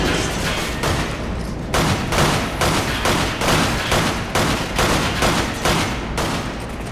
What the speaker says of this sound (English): You're getting shot by 2 rounds and you're dead.